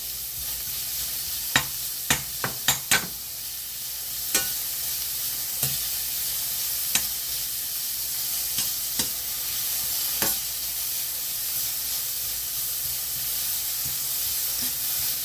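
Vegetables for japchae stir-fried in a pan, with a steady sizzling hiss broken by a cluster of sharp spatula scrapes and clicks early on, then occasional lighter taps, close and without voices.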